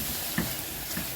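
Par-boiled meat sizzles in hot fat in a pot for a white bean stew, a steady close hiss with a couple of soft knocks of stirring.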